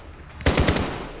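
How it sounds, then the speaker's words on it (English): A short, loud, close burst of rapid machine gun fire in a Modern Warfare campaign mission, several quick shots fired in a tight cluster. "cover!"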